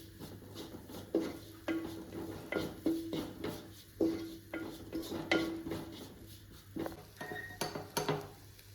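Garam masala stirred in a pan for kothu porotta, with a rhythmic run of metal spatula scrapes and clinks against the pan over a faint sizzle.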